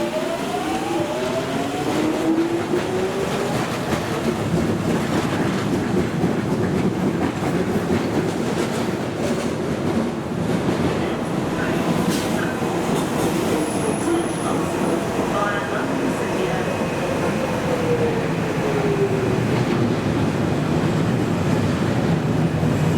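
A Docklands Light Railway train running at a Canning Town platform in London, a loud, continuous rumble with rolling wheel noise and rising and falling motor whine.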